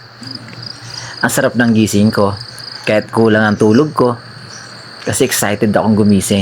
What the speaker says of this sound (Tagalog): Yung maririnig mo lang yung huni ng mga ibon at huni ng mga insekto.